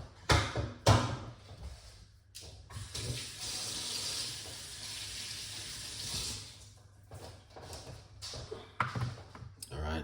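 Kitchen tap water running into a sink while fresh okra pods are rinsed, a steady rushing stream for several seconds with clunks and splashes before and after, a voice talking over parts of it.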